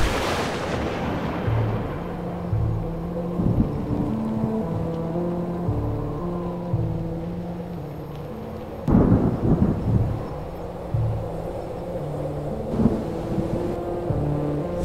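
Rumbling thunder and steady rain in a miniature city film made from household items, with heavy cracks near the middle and toward the end, heard under a stepped musical score.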